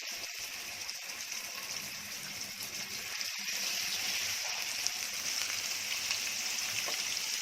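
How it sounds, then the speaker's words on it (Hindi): Fish pieces frying in hot oil for a Konkani seafood lunch, a continuous soft sizzle and bubbling that grows a little louder partway through, with a few faint clatters and no talk. "तेल गरम करने के बाद उसमें डाल रही हूँ मच्छी"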